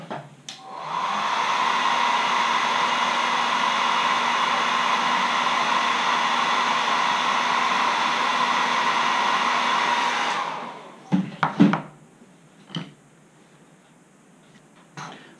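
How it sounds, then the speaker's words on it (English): A hair dryer blows steadily on fresh paint on a carved wooden caricature letter opener, a loud continuous whoosh lasting about ten seconds before clicking off, followed by a few faint knocks and handling sounds. "Get the hair dryer."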